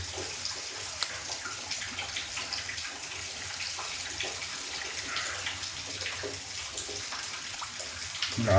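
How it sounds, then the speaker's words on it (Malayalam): Water poured into a pan of Kerala-style spicy tuna fish curry, a continuous splashing gush with a bubbly, trickling texture that swells louder at the end, close and alone without talk. "നമുക്കതിലേക്ക് കുറച്ച് വെള്ളം ആഡ് ചെയ്ത് കൊടുക്കാം."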